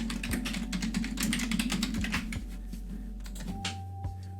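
Rapid typing on a computer keyboard, a dense run of close, light clicking keystrokes for a few seconds that thins out to a couple of isolated taps over a faint electronic hum.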